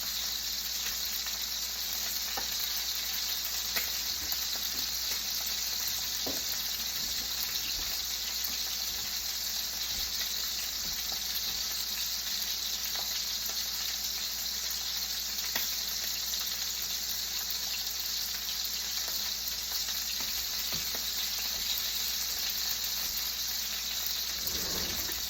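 Steaks fry in a pan with a constant, loud hiss and crackle that holds steady throughout, with a few faint pops rising from the sizzle.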